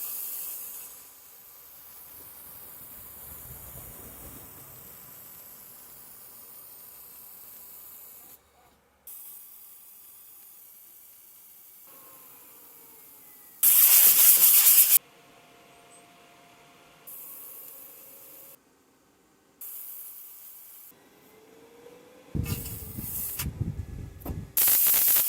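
Aluminium being welded at 70% power and 200 hertz with a 2mm bead, heard as a long stretch of soft hiss broken by a few loud, sharp bursts of crackling arc, with gaps of near silence between them.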